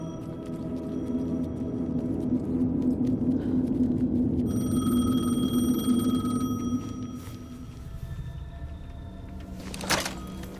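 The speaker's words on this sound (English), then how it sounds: "The payphone was ringing." A payphone rings in the video game Alan Wake 2, sounding over a low rumbling ambience with a steady electronic ring tone midway and a brief sharp noise near the end, with no talking.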